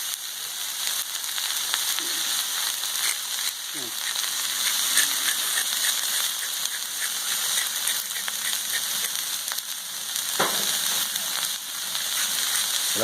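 Carrots, garlic, onions and red peppers fry on a Blackstone griddle, a loud steady sizzle running throughout with occasional faint scrapes and clicks.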